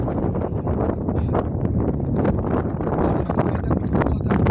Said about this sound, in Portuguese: O vento é muito forte aqui em cima.